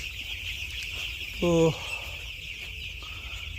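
A single brief chicken cluck from a poultry farm rises once over a constant fan-like hum and low background noise, with a faint spoken word nearby.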